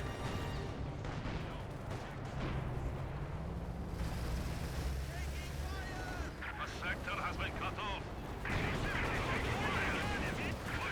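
Gunfire and cannon blasts from the World War II strategy game Company of Heroes 2, with Soviet anti-tank guns against Panther and T-70 tanks, rumble as dense continuous bursts of battle noise under steady commentary.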